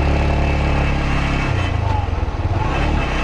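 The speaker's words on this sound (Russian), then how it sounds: "Сейчас покажу, как я ставлю свой моцик." Yamaha YBR125 motorcycle engine idling and moving slowly while parking in a crowded lot, a steady low rumble close by with a slight change in pitch partway through.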